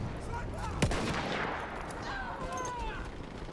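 Sniper rifle gunfire in a foggy multiplayer match of the video game Battlefield 1, a single sharp shot standing out near the start over dense, steady battle noise.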